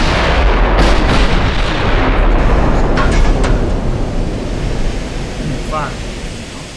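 Heavy 15-inch battleship guns firing in the naval game Ultimate Admiral Dreadnoughts, a loud sustained rumbling roar of cannon blasts and booms that slowly fades over several seconds.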